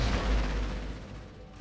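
A loud, heavy burst of death gun fire from an Ork bishop in the Warhammer 40K Regicide chess game, a booming low blast right at the start that decays over the next second and a half.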